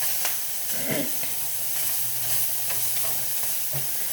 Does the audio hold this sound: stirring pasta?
yes